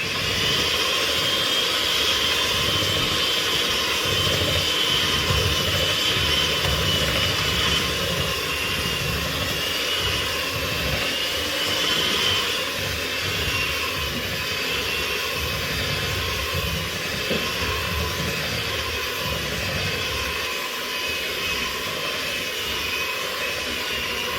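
Vanilla cupcake batter being mixed in a bowl, heard as a loud, continuous whirring drone that holds steady throughout with no talking.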